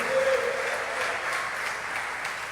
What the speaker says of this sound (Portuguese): Se você tiver liberdade, aplauda o Senhor